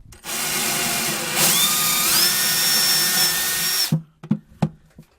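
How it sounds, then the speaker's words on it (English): A power drill whirs loudly and steadily, its pitch rising as it bores a hole into a subwoofer box, then cuts off, followed by a few sharp knocks and clatters. "And then you put your drill about halfway in the middle."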